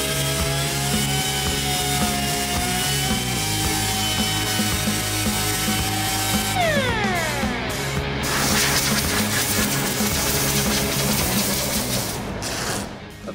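A power tool trims a fiberglass fender skirt on a 1949 Ford hot rod, running as a loud, continuous whine and grind for the whole stretch, with its pitch bending downward partway through as the cut loads up.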